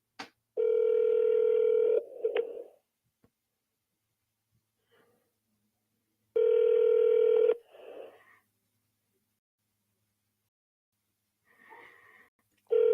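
A phone voicemail recording tone: two long steady electronic beeps several seconds apart, each followed by a short breath or rustle, loud and clear against near silence.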